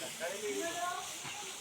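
Garlic and onion frying in oil in an urali pan while being stirred, giving a steady soft hiss and sizzle with faint scraping over about two seconds.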